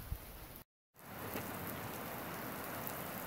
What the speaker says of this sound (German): Ein richtig herrliches Gewitter, wie ihr hören könnt.